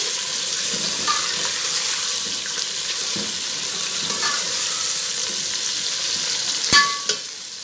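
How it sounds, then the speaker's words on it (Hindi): Chicken liver (kaleji) frying in a pan with golden-fried onions, giving a steady close sizzle with faint stirring scrapes and a couple of sharp utensil clinks near the end, no talk. "कलेजी ऐड करके इसे फ्राई करते हैं"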